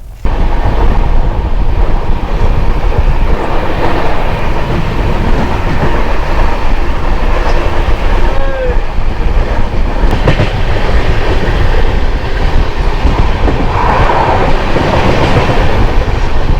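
The Samaleswari Express runs just after leaving Sambalpur: a loud, continuous rumble and clatter of wheels and carriages heard from inside, with a brief metallic squeal partway through.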